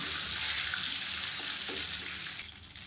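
Cashews and mustard seeds frying in ghee in a pan, a steady, faint crackling sizzle that fades slightly toward the end.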